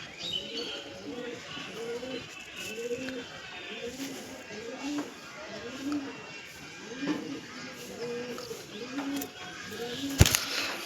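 A pigeon coos over and over in a steady, rhythmic series of low, rolling calls, close by and fairly soft.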